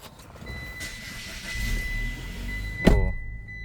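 A car engine idles in a garage while being warmed up after sitting unused, a steady low rumble with a faint whine, ending in a sharp nearby thunk like a door closing.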